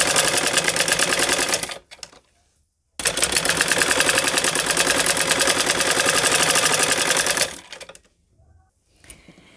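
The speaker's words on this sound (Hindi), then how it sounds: "अब हम यहाँ इस किनारे के ऊपर से हम सीधी सिलाई लगाएंगे।" Sewing machine running a straight stitch along a folded fabric edge, a loud steady whir in two bursts with a short pause between, then stopping.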